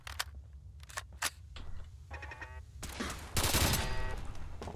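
Turret gunfire in the video game Fallout 4, with scattered sharp shots followed by rapid bursts that build into a dense, loud volley near the end, with no talking.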